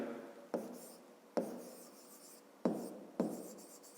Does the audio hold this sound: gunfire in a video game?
no